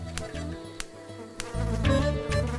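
High-pitched insect buzzing hums nearby, steady with a few sharp clicks, rising louder and fuller toward the end.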